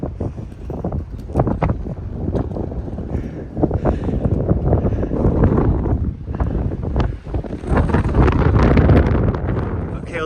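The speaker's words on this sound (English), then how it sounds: "let's see if we can hear me over the wind" Strong mountain wind buffets the microphone on an exposed Adirondack summit ridge during a fall backpacking traverse of the Great Range, a loud continuous roar with gusty surges and booming low rumbles throughout.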